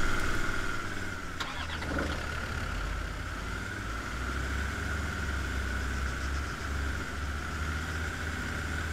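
A vehicle engine in Arma 3 cranks and catches, then settles into a steady, droning idle that runs for several seconds with a constant rumble beneath a whining tone.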